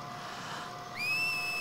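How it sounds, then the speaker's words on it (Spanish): A machine in Final Fantasy X HD gives a short rising whistle that settles into a steady two-tone pitch in the second half, clear over a soft game ambience backdrop. "Una máquina aprendiendo a silbar."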